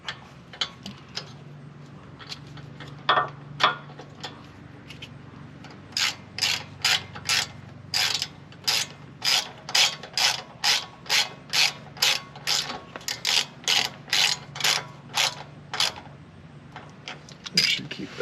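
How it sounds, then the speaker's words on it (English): A ratchet drives a new 13mm RockJock bolt that mounts the brake line onto a fresh bracket on a 2021+ Ford Bronco during a rear anti-rock install. Close, crisp pawl clicks come in quick rhythmic bursts, sparse at first, then steady and repeated. "use the new 13mm bolt supplied by RockJock to mount the brake line back onto the new bracket"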